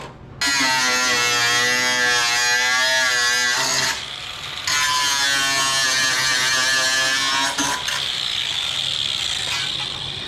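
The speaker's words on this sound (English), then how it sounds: "let's get the grinder in there." Grinder whines loudly and steadily during a Ford Super Duty hydro boost install, a high tonal motor pitch held for several seconds, dipping briefly twice as it loads against the metal; no talking.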